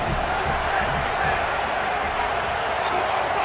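A steady, loud stadium crowd roar fills a college football video game between Baylor and Oklahoma State, sustained without pause as the home fans rock the place.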